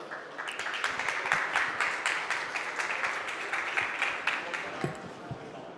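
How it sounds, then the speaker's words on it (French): An audience at an energy-security conference applauds to welcome a speaker: dense, even clapping from a crowded hall that swells quickly, holds for several seconds, then thins out. "Je vous propose d'accueillir Monsieur Jam, sous vos applaudissements, s'il vous plaît."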